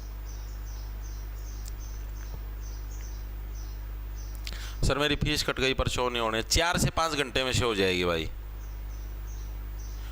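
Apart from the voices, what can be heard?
birds chirping outside during rainy weather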